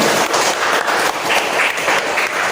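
A classroom of children bursts into brisk group applause, many hands clapping quickly and close by, loud and continuous for the whole stretch.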